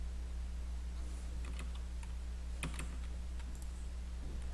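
Computer keyboard and mouse clicks while drawing in SolidWorks, holding the Ctrl key to select sketch elements; a few scattered soft clicks and key taps, close and quiet, over a steady low electrical hum.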